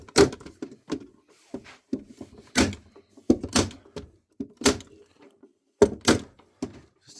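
Nail gun firing staples through weed membrane into a wooden planter, about seven sharp percussive shots spaced irregularly, each with a brief knock and some quieter handling thumps between.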